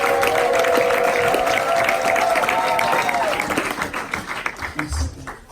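A church congregation at a French-language service applauds and cheers loudly, sustained clapping and shouts of joy that fade and thin toward the end, with a tonal musical or vocal line ringing over it early on.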